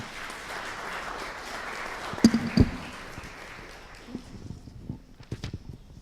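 Scattered applause from a small audience fades quickly into a few isolated claps and faint shuffling, with no one speaking.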